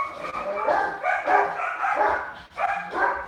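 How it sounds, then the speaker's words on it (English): Dogs barking loudly and repeatedly at neighbours, a run of close, harsh barks with brief pauses between bursts. "I'm really sorry about the dogs."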